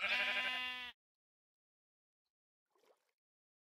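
Sheep in the game Minecraft give a single short, loud bleat at the start, followed by near silence and faint small sounds.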